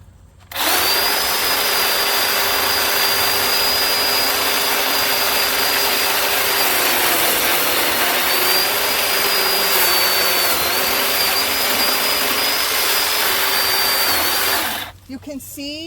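A chainsaw cutting into a tree trunk, running steadily at high revs for roughly fourteen seconds with a sustained whine, close and loud, then cutting off near the end.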